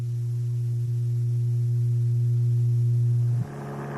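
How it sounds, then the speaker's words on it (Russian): A steady 120 Hz low-frequency tone like the hum of a grinding machine, loud and constant for about three and a half seconds before dropping off, with no other sounds. "Этот звук имеет частоту 120 Гц, в 2 раза больше предыдущего."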